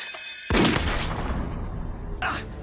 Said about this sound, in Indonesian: ia pun langsung melesatkan tembakan ke arah Mayor Koenig